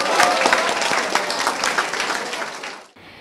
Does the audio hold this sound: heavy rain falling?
no